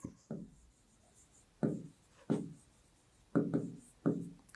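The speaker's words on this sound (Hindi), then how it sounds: "अब देखिए यहां पे लिखेंगे अपना" Pen strokes on paper during a maths lesson, sounding as a series of short scratchy bursts with small gaps between them, close and moderately loud, with no talking over them.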